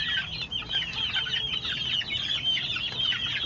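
A flock of Peruvian cross sweater chickens, a rooster among young pullets, clucking and chattering continuously nearby, with overlapping calls and no talk.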